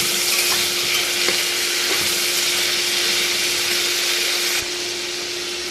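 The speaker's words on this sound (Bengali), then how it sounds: "আর এই মশলাগুলো একবারে দিয়ে নিয়েছি কিন্তু সবজিটা একটু ভালো করে ভেজে নিতে" Vegetables for a vegetable khichuri fry in a pan with spices, a steady, dense sizzle that fills the whole clip at close range, easing slightly near the end, with no talking.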